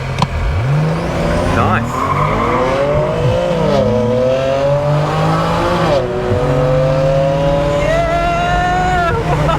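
A tuned BMW N54-powered car with a dual-clutch gearbox launches hard in a no-prep eighth-mile drag race, its engine rising in pitch through quick shifts, loud and close, with people talking and exclaiming over it.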